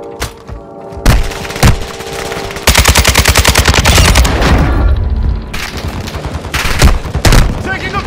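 Video game gunfire comes in bursts of rapid automatic shots mixed with single heavy booms and thuds, loud and close, with speech briefly heard among them.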